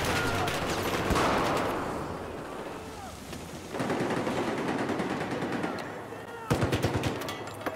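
Rapid bursts of automatic machine gun fire in the video game Battlefield 4, dense and rattling, with distant explosions and a short fresh burst near the end under faint background voices.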